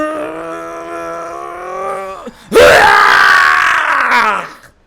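A man vocally imitates Kiryu's scream, opening with a sustained low, wavering groan, then breaking into a loud, strained roar that holds for about two seconds before fading out.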